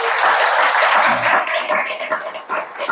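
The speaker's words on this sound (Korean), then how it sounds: "그동안 훈련 받는다고 고생해서 우리 박수 한번 칩시다" A church congregation applauds a young soldier home on his first leave from training, a dense, continuous wash of clapping from many hands that stays loud and then thins slightly toward the end, with some background voices mixed in.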